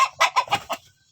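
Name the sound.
free-range breeding hens clucking while eating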